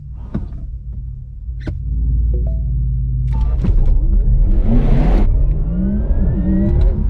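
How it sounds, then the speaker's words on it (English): A Porsche Taycan Turbo launches hard under launch control on a wet road: a loud, steady low rumble swells into a rising electric whine that keeps climbing as the car accelerates. "the first thing I'm going to try in this car is a launch control"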